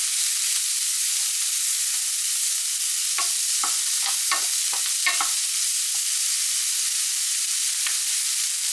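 Chicken sausages cook in a pan with a steady, even hiss of frying throughout, broken midway by a short run of soft scraping taps from a utensil moving them around.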